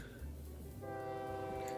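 An OpenTTD train in the video game, a brief rumble followed by a clear, sustained horn tone, quiet, with no talk over it.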